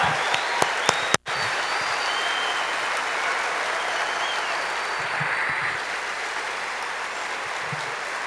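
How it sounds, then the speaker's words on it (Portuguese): A church congregation at a pastor's 25th ministry anniversary service breaks into sustained, loud applause, a dense even wash of clapping hands lasting several seconds with faint voices underneath. "Salva de palmas."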